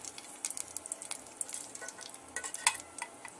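Oil with annatto seeds frying in a pan, a soft irregular crackle of sizzling pops and spits, close and fairly quiet, with a brief brighter clink partway through and no talk.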